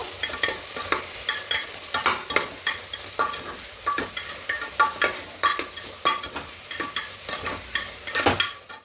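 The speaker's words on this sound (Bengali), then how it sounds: "খুব ভালো করে এগুলোকে আবার মিশিয়ে নেব" Spoon stirs fried spices and sugar through a pan of potato curry, steady scraping strokes with a light sizzle, about a dozen clear rhythmic strokes close up with no talking.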